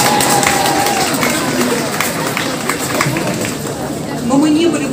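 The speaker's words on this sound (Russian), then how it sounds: "Ваши аплодисменты." Audience applause at a 30th anniversary celebration of a university academy in Kharkiv, Ukraine, a dense steady wash of clapping from a large crowd with faint tonal background sounds throughout.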